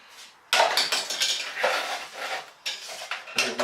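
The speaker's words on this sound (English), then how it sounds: "He's messing up with the toys." A child clatters and rummages through toys nearby, producing a steady jumble of knocking, rattling plastic and wooden clacks with bursts of louder handling, in a room where miniature painting is underway.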